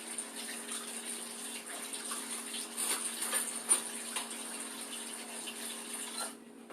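Tap water runs steadily into a kitchen sink to fill dishwater, a continuous close splashing hiss with a few louder gushes, ending abruptly when the flow is shut off.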